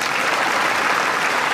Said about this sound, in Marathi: तुमच्यासाठी जोरदार टाळ्या होत्या